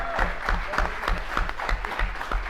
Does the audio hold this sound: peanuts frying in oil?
no